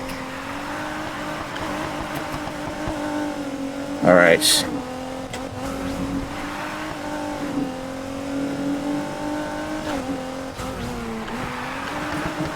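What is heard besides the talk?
car drifting and revving in video game Need for Speed Heat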